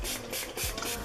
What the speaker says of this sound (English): So I'm going to take my Mario Badescu Rose Water Spray and spray that all over.